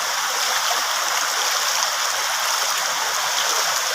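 River water flows steadily and loudly in a rural province, a continuous rushing wash with no pauses and no voices.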